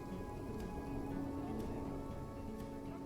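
Rain falls in the zoo-building game Planet Zoo, a faint, steady hiss of drops over a soft background hum, continuous with no voices.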